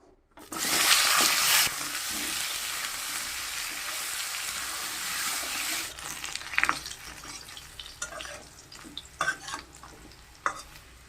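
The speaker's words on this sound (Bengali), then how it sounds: "এখন আমি মাছ ভাজার তেলের মধ্যে আমি আলুগুলো ভাজতে উঠাবো।" Potatoes hit hot mustard oil left from frying fish in a wok, setting off a loud surge of sizzling that settles into steady frying, with sharp utensil clicks and stirring scrapes.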